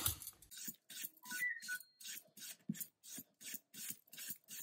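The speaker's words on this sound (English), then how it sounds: "I've washed my butternut squash and I'm just going to peel it now with my peeler" A vegetable peeler scrapes the skin off a butternut squash in close, rhythmic rasping strokes, about a dozen quick pulls with brief pauses between, no talking.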